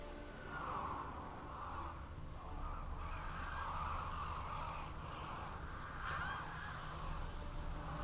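Crows caw in The Witcher 3, hoarse calls repeating over a steady outdoor ambience at moderate distance, with no voices.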